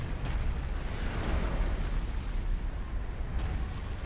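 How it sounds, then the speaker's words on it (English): A deep, sustained rumbling explosion from the video game Subnautica Below Zero in VR rolls on loud and noisy throughout, with no one talking. "Explosion."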